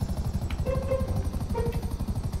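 A video game helicopter's rotor chops steadily and rhythmically, loud and close, with a continuous engine drone underneath.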